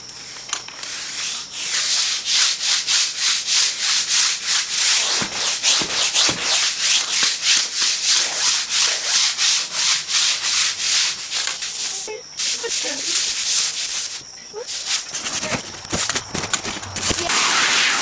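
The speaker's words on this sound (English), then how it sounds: "This is my pool scrubber." A pool scrubber brush is pushed across the wall of an above ground pool, giving loud, rapid rhythmic rasping strokes that continue nearly nonstop, with a brief pause and a few scattered knocks toward the end.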